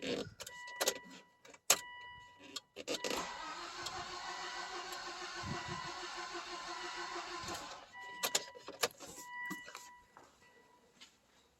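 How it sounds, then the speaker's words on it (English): A 2005 Volvo engine cranking without starting, a steady starter whir running for several seconds in the middle, framed by clicks and a few brief knocks before and after. "So I'm going to go crank this over again."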